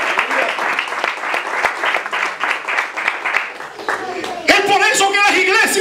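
Church congregation applauding during a Spanish-language sermon, a dense steady wash of clapping that carries on throughout, with a voice rising over it and music or singing entering near the end.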